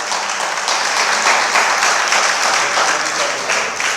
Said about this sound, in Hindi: बहुत बढ़िया, ताली बजाना बनता है बस